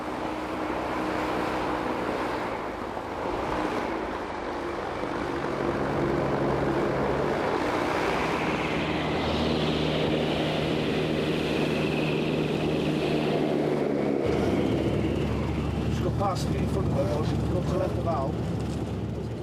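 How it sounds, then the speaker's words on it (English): A low-tech military assault hovercraft runs with a steady, loud engine roar and deep rumble that shifts in tone midway, continuous throughout under faint speech. "The hovercraft they use are low-tech and low-cost"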